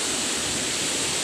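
A river swollen by heavy rain floods past, a dense, steady, rushing roar of fast water, close and continuous with no other sounds over it.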